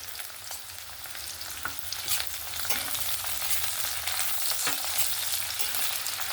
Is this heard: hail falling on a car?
no